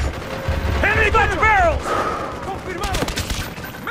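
Gunfire crackles behind shouted soldier voices in the Call of Duty: Black Ops shooter, with several sharp shots and bursts rising through the clip and the loudest cluster near the end.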